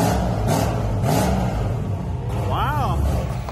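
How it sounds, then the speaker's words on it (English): A turbocharged Chevrolet S10 engine idles on methanol, a loud, steady low rumble close by, with a voice talking over it partway through. "First idling on methanol."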